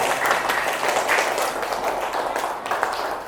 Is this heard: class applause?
yes